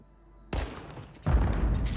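Two distinct bursts of video game gunfire go off about three quarters of a second apart, each abrupt and fairly loud, with the second heavier and more sustained.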